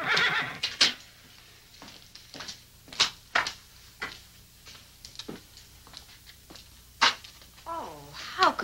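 A horse whinnies in a dramatic scene, clear neighs rising near the start and again near the end, with several short sharp knocks and movement sounds between them and no talking.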